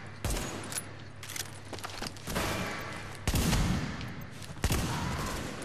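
Gunfire in The Division during a solo Dark Zone fight: repeated sharp shots and short bursts, loud and close, spread irregularly through a busy combat din with no speech.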